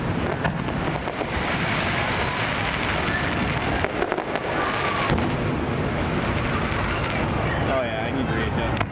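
Loyalist Day fireworks in Saint John, New Brunswick, launched high overhead, a dense, continuous barrage of booms and crackling bursts that fills the whole stretch with roaring noise, while people talk excitedly nearby.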